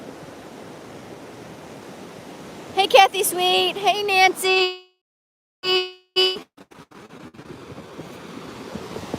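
Ocean surf rolls onto a beach where wild horses roam, a steady broad wash of waves and wind, interrupted by brief spoken greetings and a short dropout.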